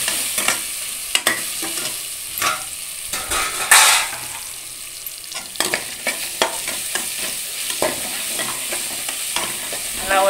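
Ginger garlic paste for masala biryani sautéing in a pan, with repeated spatula scrapes and taps over a crackling, sizzling background, close and fairly loud, with no voices.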